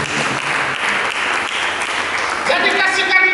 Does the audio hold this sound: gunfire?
no